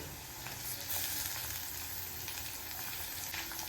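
Chopped tomatoes hit hot oil in a pan while matki usal (sprouted moth bean curry) cooks, giving a steady, even sizzle that holds close and moderately loud throughout, with no talking.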